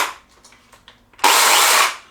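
A Makita UC3041A 12-inch corded electric chainsaw bursts into a loud, steady high-pitched whine for under a second after a few faint clicks, then cuts off abruptly.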